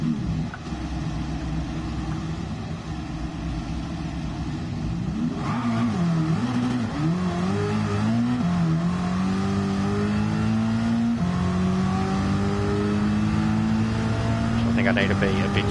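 A Trans Am race car engine in a racing video game pulls hard under throttle, rising and falling through revs before climbing steadily, loud and close, with a voice talking over it.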